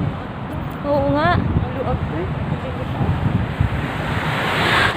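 Wind buffets the microphone outdoors in a steady, roaring rush that rises toward the end, with a voice speaking briefly over it.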